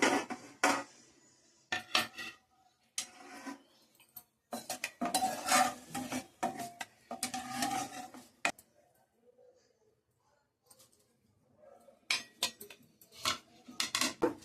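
Fried curry leaves being scooped out of hot oil in a pan while making chicken fry, scattered sharp metallic scrapes and clinks of a utensil against the pan in irregular clusters with quiet stretches between.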